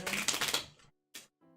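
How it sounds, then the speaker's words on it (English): Cards for the Shadows of Kilforth board game being shuffled in brief riffling bursts, a dense rustle over the first half-second, then a short sharp flick and a softer shuffle near the end. "So we shuffle here."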